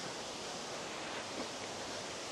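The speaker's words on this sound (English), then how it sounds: "It's the river." River water flowing near an old waterwheel site in Wales, a steady, even broadband rush with no voices, constant and fairly faint throughout.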